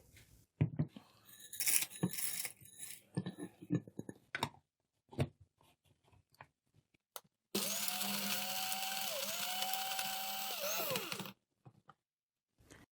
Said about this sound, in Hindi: हम इनको मिक्सी में डालकर ग्राइंड कर लेंगे